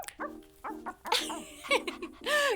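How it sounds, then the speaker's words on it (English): Dog barks and yips in short bursts between pauses during an at-home training session, close and fairly loud, with whimpering tones mixed in. "I was just finishing up a little doggy training session with my best dog, Stormy Jane."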